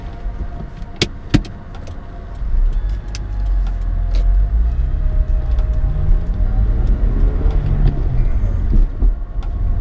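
A Mini Cooper S lowered on Eibach Pro Kit springs drives along country lanes, a steady low engine and road rumble with the drone rising as it accelerates, preceded by a few sharp interior clicks and knocks.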